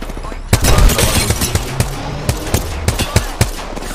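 Rapid video game gunfire rattles in sharp bursts of repeated close shots, with a quick volley followed by scattered single cracks over about four seconds.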